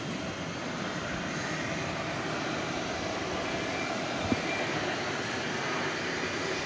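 A Boeing 757 jet airliner at DFW Airport at night, a steady broad roar of engines holding at constant loudness throughout, fairly close with no talking.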